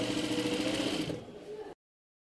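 A sewing machine stitches a side seam of a garment in one fast, continuous mechanical whir up close, fading slightly before stopping abruptly.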